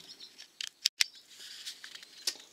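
Package of fibre filler for a Shetland 570 boat renovation being opened, a few sharp snips and crinkly rustles near and fairly quiet, with short pauses between them.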